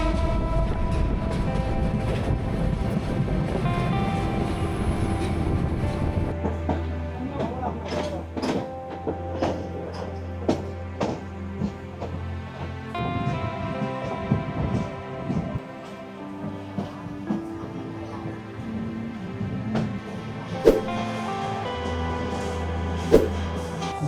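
The Sonar Bangla Express, running from Chattogram toward Kamalapur station in Dhaka, rumbles low inside the carriage with scattered clanks and rattles over a long, steady stretch, faint background murmur mixed in.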